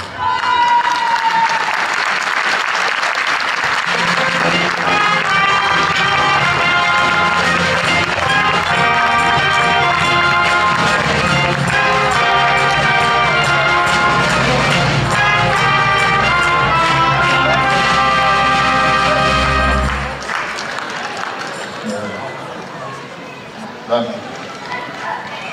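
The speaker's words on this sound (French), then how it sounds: "Alors on applaudit bien fort Valérie" A crowd at a local sports awards night applauds loudly for a gymnastics coach, the clapping layered over ringing music before it cuts off sharply near the end, leaving quieter room noise.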